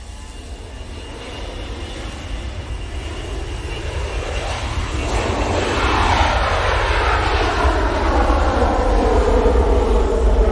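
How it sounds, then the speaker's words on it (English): An air tanker aircraft comes down to land at Manchester Airport, a loud, close jet roar that swells steadily, with a descending Doppler whine sweeping through it and no talk over it. "I can see the air tanker is going to be coming down"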